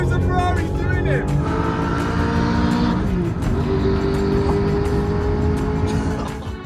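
A cheap supercar races a Ferrari side by side on the road, engines roaring loudly with shifting pitch and a tire squeal, while people shout and talk excitedly over the noise.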